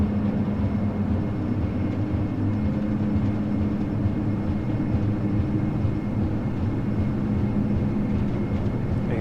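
Majestic Q400 DH8D turboprop engines at takeoff power during the takeoff roll in a flight simulator game: a loud, steady droning roar with humming tonal layers, continuous throughout, no voices.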